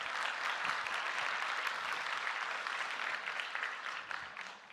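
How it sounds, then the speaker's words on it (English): Audience applause at a conference closing plenary, a broad, steady wash of clapping from a large crowd that thins slightly toward the end. "That means a big round of applause"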